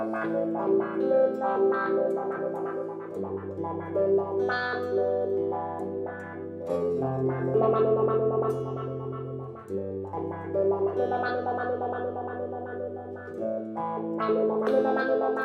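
Heavily processed electric guitar playing sustained chords through a sweeping modulation effect, loud and continuous with a warbling, pulsing texture.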